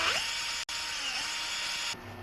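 A power drill with a 9/64 bit bores a hole into wood, a loud, continuous high whine with a brief cut-out early on and a drop in pitch near the end.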